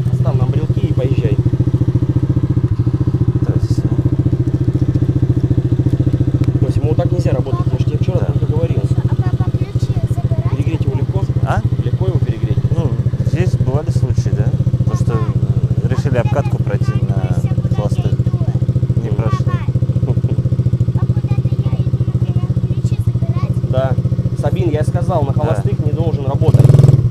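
Small MOWGLI Hardy 8 children's quad bike with its engine running, a steady low motor drone throughout, near and loud, with people talking over it.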